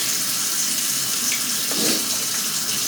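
Hot water runs steadily from a tap into a sink for washing, a continuous close hiss with a little splashing and no talking.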